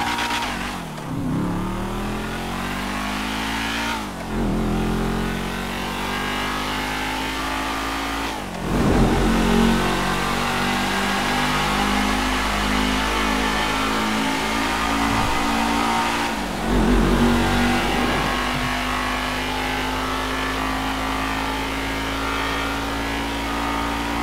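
A GTA 5 F620 coupe engine revs hard in repeated surges, each climbing in pitch before a brief gear-change dip, loud and close throughout with no talking.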